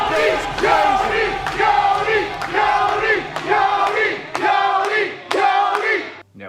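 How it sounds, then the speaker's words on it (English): A live crowd at a Schmoedown trivia competition event roars and chants loudly in a pulsing rhythm, voices rising in repeated waves, close and boisterous. "Oh, the crowd is crazy!"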